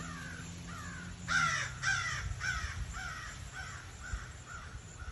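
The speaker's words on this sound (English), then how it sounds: "I won't tell you what the crow said." Crows caw repeatedly outdoors, a rhythmic series of harsh calls at moderate distance, some overlapping, with faint background noise and no talking.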